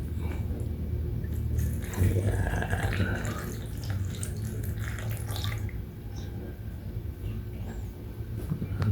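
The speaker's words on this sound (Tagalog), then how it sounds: "Ayan guys, lalagyan na natin ng tubig." Water pours into a cooking pot of wrapped suman rice cakes, a close, continuous splashing gush with bubbling and dripping, a brief swell near the start and steady flow throughout.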